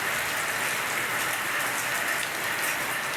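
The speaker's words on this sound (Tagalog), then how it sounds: "Pero ayaw talaga uminto yung ulan." Steady, dense rain pattering on a roof, a continuous hiss with no pauses and no voices.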